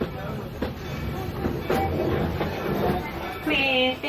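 Walt Disney World Railroad train at Magic Kingdom rolling into the station at sunset, a steady rumble of wheels and rail clatter with faint voices around, ending in a brief high squeal as it slows.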